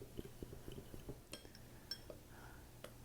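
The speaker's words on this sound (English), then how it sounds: "I'm going to take a fork and just give it a nice stir to combine all of that together" A fork clinks and scrapes against a bowl while stirring together dry jerk seasoning spices, giving a rapid run of light metallic taps followed by a few sharper clinks, close and fairly quiet.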